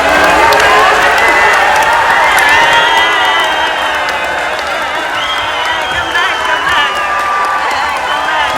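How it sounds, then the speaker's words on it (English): Audience at a magic show clapping and cheering loudly and steadily, with excited shouts and whoops rising over dense crowd noise throughout. "Give her a big round of applause."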